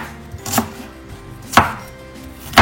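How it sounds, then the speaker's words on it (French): An onion chopped into small pieces with a knife on a cutting board, three firm, evenly spaced thuds close by with light scraping between them and no speech. "Donc vous découpez en petits morceaux."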